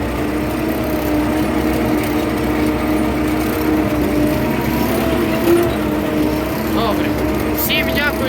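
A tractor discs a field ahead of potato planting, its engine droning steadily and close throughout with a constant mechanical rumble, while faint noises flicker near the end.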